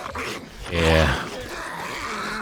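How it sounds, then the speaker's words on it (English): Dogs in the survival game 7 Days to Die growl in one loud, close, rough burst that swells and fades, followed by quieter ambient game noise. "Apparently we have a little bit of a dog horde problem."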